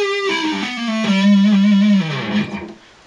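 Distorted electric guitar plays a fast sweep-picked arpeggio, notes cascading in quick succession through a heavy effects tone, loud and close with no talking.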